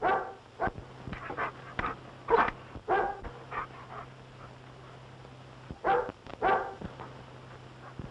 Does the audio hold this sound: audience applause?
no